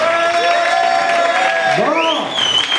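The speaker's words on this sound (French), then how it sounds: "Mais applaudissez-les très très très fort." A crowd applauds and cheers steadily throughout, with whoops rising over the clapping and a prominent voice or tonal sound weaving through the noise.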